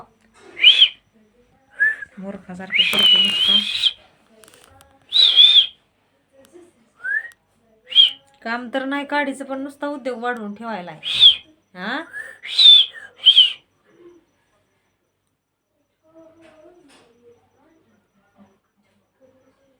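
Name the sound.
child whistling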